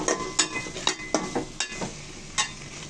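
Chicken pieces stirred and fried in spice paste for a moong dal chicken curry: a soft sizzle beneath several sharp, rhythmic spoon scrapes and knocks against the pan, close by.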